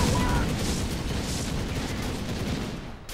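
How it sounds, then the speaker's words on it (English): Dense crackling bursts and booms of fireworks in Dota 2, loud and continuous, with a voice faintly underneath. "Fireworks!"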